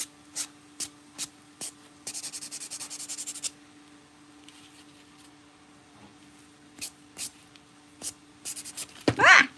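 A nail buffer works over dip powder nails in short, separate scratchy strokes, with one longer rubbing burst, quiet and close, ending in a louder rustle.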